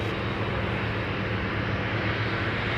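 Boeing 777-300 airliner engines at Amsterdam Schiphol Airport, a steady, dense jet roar holding at an even loudness throughout with no talk over it.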